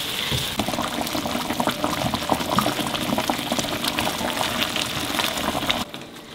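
A large fish added to simmering spiced cooking liquid for an Eid meal, with steady close bubbling and sizzling throughout that drops away abruptly near the end.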